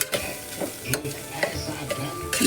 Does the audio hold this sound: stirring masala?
yes